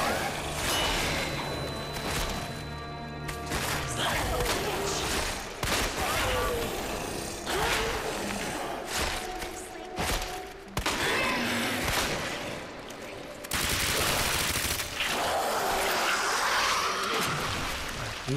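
Repeated gunfire aimed at a monster in the Resident Evil 2 Remake, a dense run of loud shots with crashes and swooshes mixed in, backed by game music and sounds throughout.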